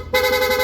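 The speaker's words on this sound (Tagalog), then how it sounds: "PIA horn," A PIA aftermarket horn in rapid mode on a Yamaha NMAX V2 scooter blares as one steady, loud, bright tone that starts abruptly and holds to the end.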